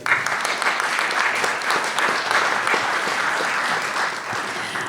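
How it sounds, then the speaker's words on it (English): An audience at an Intelligence Squared and IBM live debate event breaks into sustained, dense applause that stays loud and even throughout, with no voices on top. "Please give everyone a round of applause."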